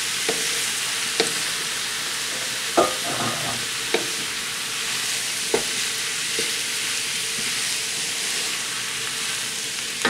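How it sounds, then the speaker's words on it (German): Day-old jasmine rice with peas and chicken stir-fries in a hot pan, a steady bright sizzle broken by a handful of sharp scrapes and clacks of the utensil, with no talking. "Das lassen wir jetzt schön anbraten zusammen."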